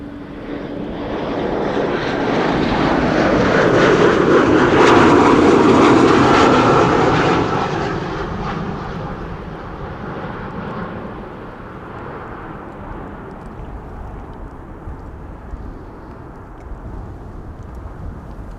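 Eastern Airways airliner flying for KLM landing at Amsterdam Schiphol in strong wind, a loud engine roar swelling as it passes close, then fading into a lower steady rumble.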